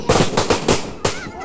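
Firecrackers set off during the Chhath festival snap in a quick run of five sharp, loud outdoor pops within about a second.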